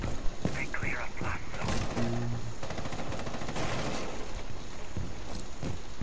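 Shotgun fire rings out in a Rainbow Six Siege match, with several sharp bursts of gunshots scattered among other game sounds as players talk over the action.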